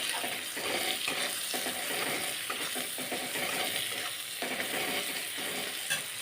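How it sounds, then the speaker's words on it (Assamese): Onions with turmeric and salt fry in hot oil, giving a steady close sizzle with bursts of stirring and spattering all the way through. "হালধি নিমখ দি পিঁয়াজখিনি ভালকৈ ভাজি ল'লোঁ"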